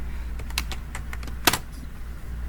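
Keys tapped on a computer keyboard while entering a ChatGPT prompt, a quick irregular run of close clicks with one louder strike midway, over a steady low hum.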